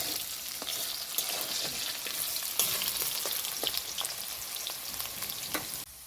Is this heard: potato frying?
yes